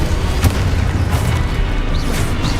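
Confringo fire spell exploding in the Hogwarts Legacy video game, a dense, loud boom with crackling burst texture sustained through a short stretch of combat, with no speech.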